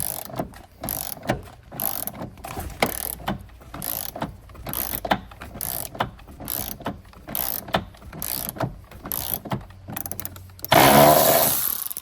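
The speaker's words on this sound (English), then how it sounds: "Got my power ratchet." A power ratchet loosens a seat belt bolt on a 2016–2022 Honda CR-V, with loud close bursts of whirring and clicking broken by short pauses and a louder sustained run at the end, with no voices.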